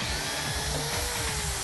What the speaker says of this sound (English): It can drill through wood,